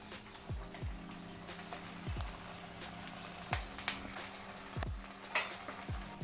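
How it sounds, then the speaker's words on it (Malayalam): Kappa beef cutlets fry one at a time in coconut oil in a pan, giving a soft, continuous sizzle with scattered crackles and a few dull low thumps, fairly quiet and without talk. "നമുക്ക് വെളിച്ചെണ്ണ ഒഴിച്ച് കൊടുക്കാം. ഓരോന്നായിട്ടിട്ട് വറുത്തെടുക്കാം."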